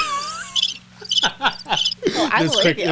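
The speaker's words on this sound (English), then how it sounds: "crickets playing right now" Crickets chirp in fast, high pulsing trills, fairly close and clear, with a few overlapping calls and no talking.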